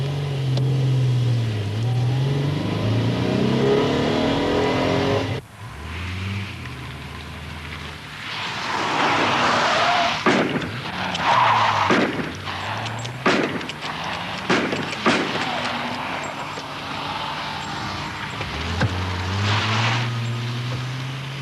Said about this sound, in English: We just saw how that handbrake turn got that guy out of trouble.